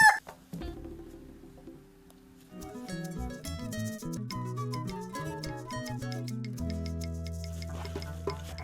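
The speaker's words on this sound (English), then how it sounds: "We better see about those chickens." Chickens cluck and squawk near the microphone on a farm. The calls come in an irregular, overlapping run that grows busier and fuller after a quiet opening moment.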